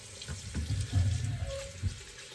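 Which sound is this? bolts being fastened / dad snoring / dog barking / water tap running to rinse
water tap running to rinse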